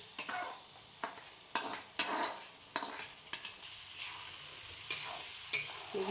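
Pav bhaji vegetables and masala sizzle in a pan while a spoon stirs and scrapes in repeated short strokes against the metal, with a steady frying hiss underneath.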